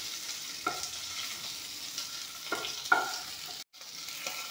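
Fish fries in a pan with a steady, close sizzle, broken by a few soft stirring scrapes and clinks and one brief silent gap.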